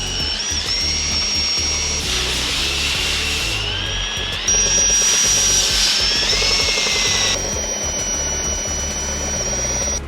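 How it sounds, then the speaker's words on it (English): A power drill with a large bit bores out a hole while a widebody kit is fitted to a 2023 Lamborghini Urus Performante, giving a close, continuous high-pitched whine that shifts pitch as the load changes. "just drilled out the hole."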